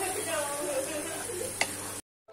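Chicken pieces stir-fry in a pan until crispy for a simple soy-sauce chicken dish, giving off a steady close sizzle with faint stirring scrapes and a brief clink before cutting off abruptly.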